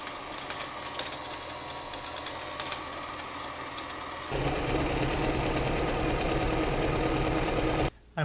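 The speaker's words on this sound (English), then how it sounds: "I'm assuming this sewing machine came from Walmart." A Walmart sewing machine runs steadily and stitches continuously, its motor hum turning louder and denser halfway through, then cutting off abruptly at the end.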